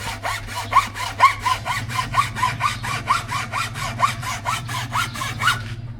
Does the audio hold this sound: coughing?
no